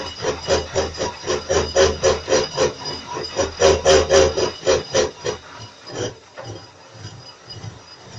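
A drilling machine cuts a chamfer into a hole, making rhythmic grinding rubs at a lower spindle speed, loud and regular pulses that thin out into quieter scraping toward the end.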